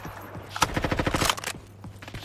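Rapid burst of sniper rifle gunshots in the Roblox video game, a quick string of sharp, loud cracks fired in close succession, then a pause with a few fainter shots trailing off.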